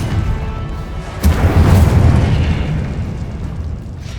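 A fiery spell blast erupts in the fantasy game Hogwarts Legacy, a sudden loud boom followed by a long roaring, crackling rumble that slowly fades, with no talk.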